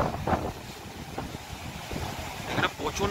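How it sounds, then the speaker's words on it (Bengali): Strong wind blowing at Sinquerim Beach in Goa with incoming high-tide waves, gusty rumble buffeting the microphone in uneven bursts, with a voice talking over it. "এখানে প্রচন্ড হাওয়া।"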